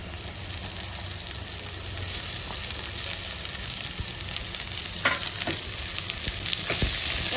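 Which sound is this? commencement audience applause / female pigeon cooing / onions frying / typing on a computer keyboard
onions frying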